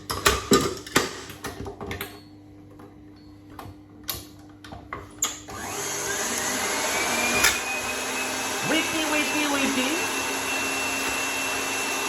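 An electric mixer whips egg whites with a tiny bit of lemon juice for Italian ricciarelli, a steady close whirring drone settling in after a few seconds of clattering kitchen noise.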